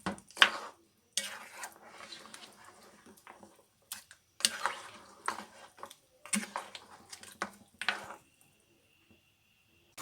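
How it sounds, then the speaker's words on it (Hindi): Mutton being stirred and fried in ghee in a pot for qorma, intermittent bursts of scraping and clinking from a spoon against the pot over a soft sizzle, with brief quiet gaps. "ये देखिए गोश्त हमारा पक रहा है और इसने ये घी भी छोड़ना शुरू कर दिया"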